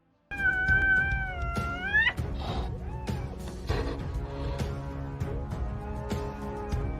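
A mother cat confronts a python, loud yowls and caterwauling cries mixed with thumps and scuffling, close and continuous.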